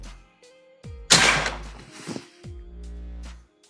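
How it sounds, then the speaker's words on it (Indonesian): A PCP Bocap AFC 500cc air rifle fires a 13.6-grain Hercules pellet in one loud, close, sharp report that trails off into a short rattle before quiet returns. "Lanjut untuk tembakan yang terakhir."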